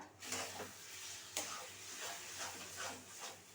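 Lentil filling being stirred in hot oil in a pan, a steady low sizzle with repeated soft scraping strokes of the spoon, close and moderate, no talking.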